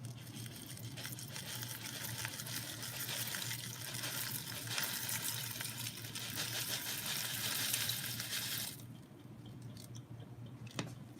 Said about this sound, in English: I'm going to slowly pour this the flakes into the water